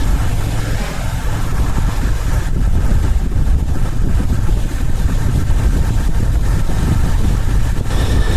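Royal Enfield Interceptor 650 motorcycle on a 2019 plate, its engine a loud, steady rumble while riding, with broadband road and wind noise throughout and no voice.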